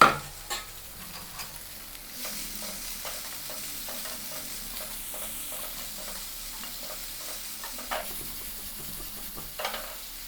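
Chicken fries in olive oil in a pan with a soft, continuous sizzle, punctuated by light clicks and occasional louder scrapes as it is stirred, close but quiet, with no voices over ten seconds.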